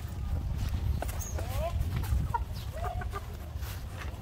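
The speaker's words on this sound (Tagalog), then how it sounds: "So ito mga ka-farmers yung mga manok natin dito na mga" Kelso and Asil chickens in a farm pen, with a few short clucks and crows over a steady low rumble of background noise and a voice talking.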